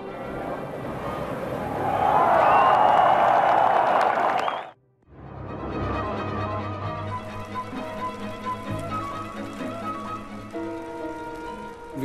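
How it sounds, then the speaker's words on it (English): An immense euphoric crowd cheering at German reunification, a loud sustained roar that cuts out briefly, then returns as a steadier wash of crowd noise with music-like tones. "And here you see it again, the immense crowd, euphoric and full of commitment."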